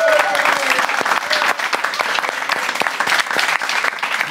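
A studio audience on a late-night talk show bursts into loud, sustained applause with scattered cheers and whoops, close and dense throughout.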